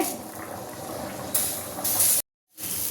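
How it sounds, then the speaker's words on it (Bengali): Small amounts of water are poured into a hot frying pan, producing a steady hissing, steaming rush that swells briefly, cuts out abruptly, then resumes. "আরও দিতে হবে জল একটু একটু করে।"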